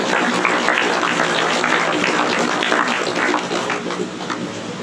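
Wedding guests applauding together at a reception, a dense, steady wash of many hands clapping at close range that holds for the whole stretch and eases slightly toward the end.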